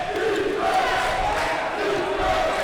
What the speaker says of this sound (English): Frisch crowd getting into it again.